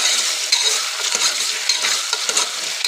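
Taro root (chamagadda) stirred in oil in a pan, a continuous close hiss of frying with frequent small scraping and clinking stirs throughout, no voices.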